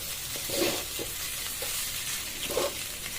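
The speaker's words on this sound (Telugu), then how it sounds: "మిక్స్ చేసుకున్న తర్వాత ఫ్లేమ్ని టర్న్ ఆన్ చేసుకొని సిమ్లో ఒక 1 or 2 minutes ఇలా తిప్పుకుంటూ కలుపుకుంటూ ఉండండి." Tomato rice is stirred in a pan over a low flame, with a soft continuous sizzle and a few gentle scraping strokes of the spoon, close and steady, with no talk.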